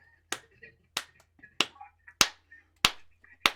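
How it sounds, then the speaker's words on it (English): Six sharp, evenly spaced hand claps from an audience at a traditional storytelling performance, each a crisp broadband burst about half a second apart, with faint voices between them. "We're going to clap a rhythm."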